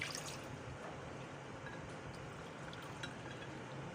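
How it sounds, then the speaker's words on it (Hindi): Four cups of water poured into a saucepan, a steady continuous pouring wash with faint clinks, close and alone. "ये मैंने डाल दिया है 4 कप पानी सॉस पैन में।"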